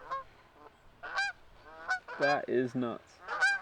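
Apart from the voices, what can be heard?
flock of geese honking as they fly over low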